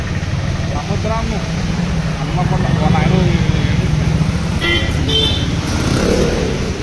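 Road traffic after rain passes close by, with car and motorbike engines rumbling, a few horn toots and rising and falling engine noise, while people talk over it.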